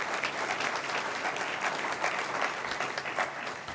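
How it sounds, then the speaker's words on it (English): Steady, dense applause from the audience at a county small business awards ceremony honouring a local laser engraving firm, moderately quiet and unbroken throughout with no speech. "how about a round of applause for Lasered Edges?"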